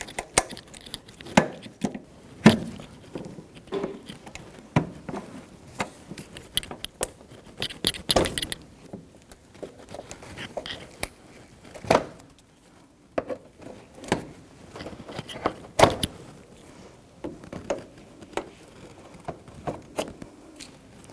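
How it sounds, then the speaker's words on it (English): A body trim tool pries plastic body clip pins out of the grille and bumper cover on a 2007-2017 Jeep Patriot 2.4L. Irregular sharp plastic clicks, snaps and rattles come close and alone. "So with my body trim tool, we're going to pull these plastic pins out."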